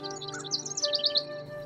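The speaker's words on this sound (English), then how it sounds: "during my morning walk, I can hear the birds singing in the background." Bright, quick chirps and twittering notes from birds singing nearby, layered over a faint steady hum.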